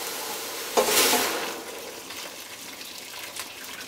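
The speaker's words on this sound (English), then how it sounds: "Bring back these greens, put them right back in the pot." Foraged greens such as plantain, dock, bittercress, cleavers and dandelion drop back into a pot of boiling water with a sudden splash and hiss that fades to a steady bubbling simmer.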